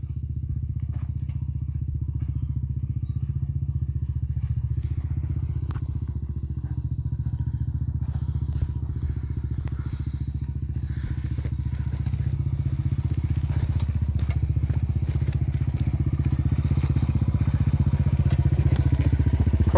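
A dirt bike engine drones steadily and close on the rocky Crab Flats trail, with occasional thumps and clatter as it crosses the rough ground.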